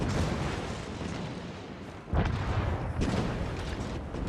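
Heavy naval guns of a Des Moines cruiser firing in World of Warships, with booming salvos over a constant rumble of battle noise and a sharp blast about halfway through, no voices.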